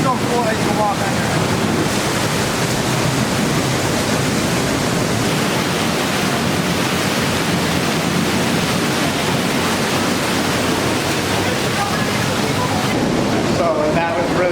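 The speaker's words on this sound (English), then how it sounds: "So cool that you can walk under." Close, loud and constant roar of the waterfall at Watkins Glen, heard from a walkway passing under the falling water, a dense wash of noise with no break.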